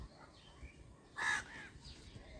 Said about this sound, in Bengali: কর্কশ কাকের ডাক শুনেছেন না?